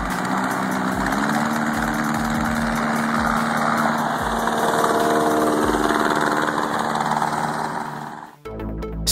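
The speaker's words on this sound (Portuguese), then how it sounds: "Este hovercraft se move apenas sobre superfícies planas ou gramado macio em baixas velocidades e faz bastante barulho." A homemade hovercraft with a plastic air cushion runs with a loud, steady engine and fan drone at close range, then cuts off abruptly near the end, with no voices.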